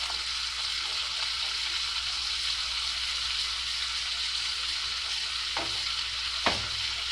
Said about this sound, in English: Because I'm adding a piece of unsalted butter.